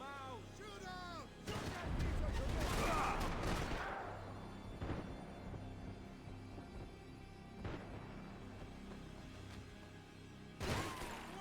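Gunfire in the video game Max Payne 3 sounds as a cluster of loud booming shots near the start, then a few scattered sharp reports, with brief voices and game sounds in between.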